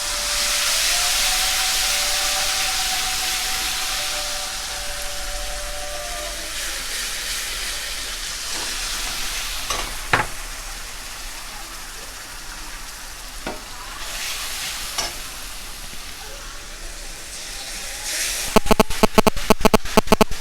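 A paste of ground coconut, mustard and green chili sizzles in a pan with nigella seeds, first as a loud hiss that then settles into softer frying. Spoon scrapes and clinks break in near the end.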